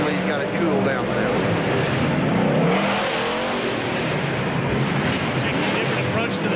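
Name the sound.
pro arena race truck engine revving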